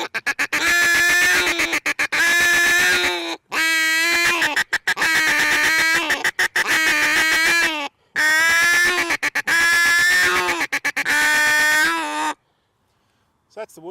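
A person imitates a wood duck with a mouth or hand call, steady runs of squealing, slightly varied whistled notes broken by short clucks, loud and close, in several bursts with brief pauses before falling silent near the end.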